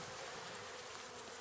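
Honey bees buzzing inside an open beehive during an inspection, a soft, continuous hum from many bees close by with no voices.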